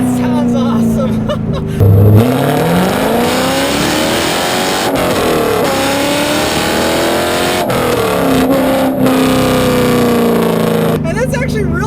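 A 2000 Chevrolet Camaro SS with a manual gearbox accelerates hard on a damp back road. The engine roars and climbs through tall gears with a shift early on, heard from inside under a voice.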